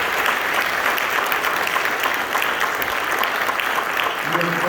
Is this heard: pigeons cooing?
no